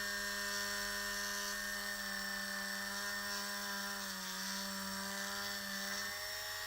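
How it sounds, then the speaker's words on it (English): A small motorized drill spins a 1 mm bit into a toy figure's wrist joint during a repair, a steady high whine with a sustained tonal hum that holds throughout, briefly dipping in pitch near the end. "We're going to come in with a 1 millimeter just to drill a larger hole"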